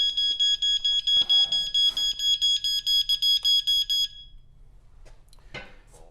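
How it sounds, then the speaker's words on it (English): A water flood alarm rated at 85 decibels sounds loud, rapid beeping pulses for about four seconds, then stops, leaving faint room noise and a brief rustle. "as soon as water touches the sensors, an 85 decibel alarm goes off?"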